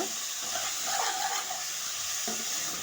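Tomatoes being stirred into a chicken curry in a pan, with a steady sizzle and soft scraping of the spoon running throughout, fairly close and without talk.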